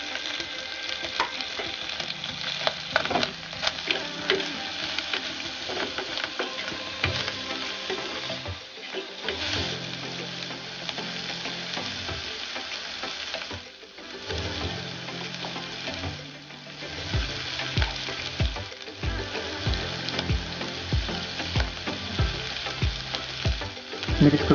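Sri Lankan sprats stir-fried with tomatoes in a pan, a continuous sizzle with frequent scraping and tapping of a spatula as the mix is stirred, close up and with no one speaking.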